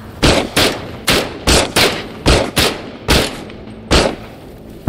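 Gunfire in the video game Into the Radius: about ten loud, sharp shots in an uneven rapid rhythm, each with a short echoing tail, with no talking.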